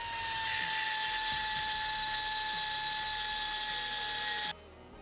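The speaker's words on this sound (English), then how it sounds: "I'll clearance the bearing cap with a rotary tool and a carbide bit." A rotary tool fitted with a carbide bit grinds a bearing cap from a Jeep JK Dana 44 front axle, producing a steady, loud high-pitched whine that holds without a break before suddenly cutting off near the end.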